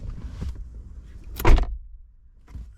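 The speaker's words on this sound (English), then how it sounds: "So we'll do a door close test and see if that gets in the way of closing the door." A Lexus GX460 car door closes once with a solid, close thud fitted with an all-weather floor mat, preceded by faint handling rustles and followed by a soft click.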